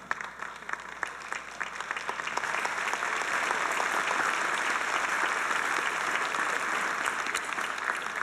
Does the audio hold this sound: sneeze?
no